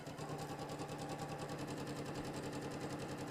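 A sewing machine stitching a fabric cover for a lavender eye pillow on a small stitch length, running steadily with a quick, even rhythmic whir throughout, fairly quiet and close.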